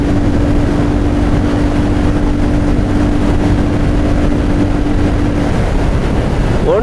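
Royal Enfield Scram 440 motorcycle cruising on a highway at about 120 km/h, a loud, steady engine drone with a constant tone and heavy wind roar throughout, no talk.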